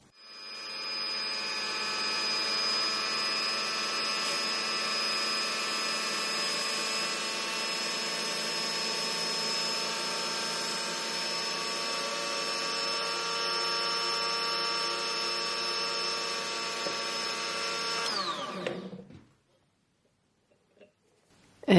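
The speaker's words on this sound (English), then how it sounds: "I am going to turn both machines on, so this will be spinning and this will be spinning, and I am going to shape the tip." A coarse spinning disc grinds the tip of an old bur into a burnisher, a steady high-pitched motor whine with a bright tone that holds for about eighteen seconds before winding down and stopping.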